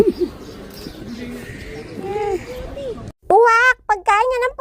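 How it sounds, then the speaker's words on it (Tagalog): Crows caw near at hand, a burst of several loud, harsh calls in quick succession toward the end, after a stretch of quieter talking and softer bird sounds. "ang iingay ng mga uwak"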